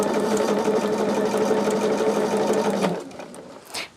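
A sewing machine stitches through a heavy quilt with a steady, close whirring drone for about three seconds, then stops abruptly, leaving a faint rustle.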